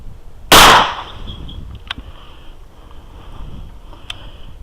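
A single loud 20 gauge shotgun blast fired at a target of flour, eggs and a PC power supply cracks sharply and decays quickly, followed by faint clicks and quiet outdoor ambience.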